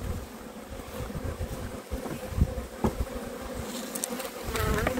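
Honeybees swarm around an opened hive during an inspection, a dense, continuous buzzing close to the microphone with a few sharper passes near the end, and no one talks.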